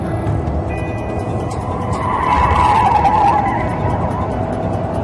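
A car driven fast with its tires skidding and squealing, a steady loud engine roar and screech rising in the middle and holding to the end, with no voices over it.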